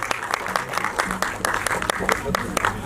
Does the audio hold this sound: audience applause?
yes